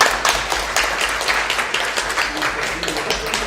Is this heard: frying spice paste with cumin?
no